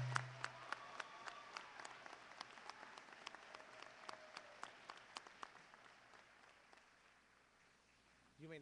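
Applause for graduates at a 2015 commencement ceremony, a large hall of scattered clapping with sharp individual claps standing out, steady at first and gradually fading, with faint voices at the very end.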